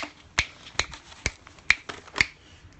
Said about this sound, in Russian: Щелчок.